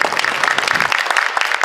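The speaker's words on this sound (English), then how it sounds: "So a round of applause for them." Audience applause for a pipe band at a change of command ceremony, a steady dense patter of many hands clapping throughout, moderately loud with no voices over it.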